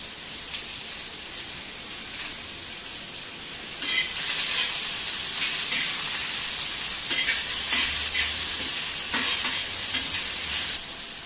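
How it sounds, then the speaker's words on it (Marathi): Finely sliced onion sautés in oil on a griddle, giving a continuous rain-like crackling sizzle that grows louder partway through, with scattered stirring scrapes and no voices. "आता हा उभा बारीक चिरलेला कांदा आपण गुलाबीसर रंगावरती परतून घ्यायचा आहे"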